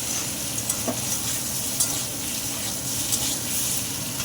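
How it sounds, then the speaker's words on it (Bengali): Paneer fries in a pan of oil for panir posto, a steady close sizzle with soft stirring scrapes and occasional clicks, no voices. "পনিরটা আমার ভাজা ভাজা হয়ে গেছে"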